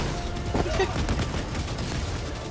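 A mortar fires over and over in the video game Helldivers 2, its booms and blasts merged into a dense, continuous barrage of battle noise, with a voice briefly heard beneath.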